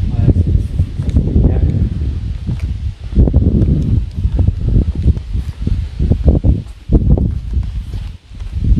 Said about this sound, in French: le vent, vous l'entendez